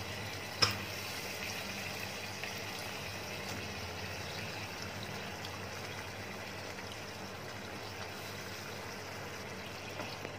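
Masala gravy with green peas simmering in a pot, a steady soft bubbling and hiss that runs low and even throughout, with one brief clink near the start and no talking.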